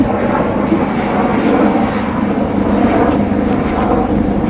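Helicopter flying overhead, a loud, broad rumbling drone that holds steady throughout without any voices.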